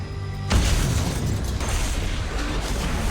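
A sudden loud explosion at a submarine erupts after a quiet mechanical hum, then a sustained rumbling roar continues, with some creaking and metallic clatter.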